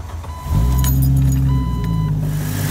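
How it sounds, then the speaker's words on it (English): A car's engine cranks and catches about half a second in, then settles into a steady, close idle rumble, with some faint metallic jingling early on. "Your next step is to start the car."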